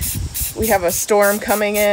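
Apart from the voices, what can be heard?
spray paint being sprayed onto wood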